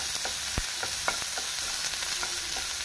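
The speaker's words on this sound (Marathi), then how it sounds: "तो कांदो बरो एक लायट ब्रावन कलर येयसर बरो ताका फ्राय करून घेवया" Chopped onion fries in a pan over a medium flame, giving a constant hiss with scattered light taps and pops as it cooks.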